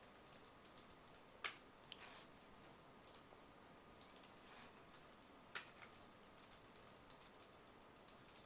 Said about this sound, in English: let me just type out it real quick here